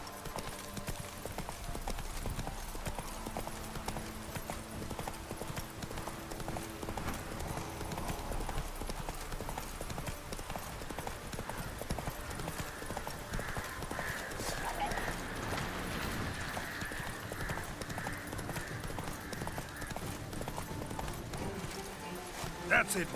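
Roach the horse galloping in The Witcher 3, continuous hoof clip-clop running under dense game sound and voices, steady and moderately loud across the whole stretch.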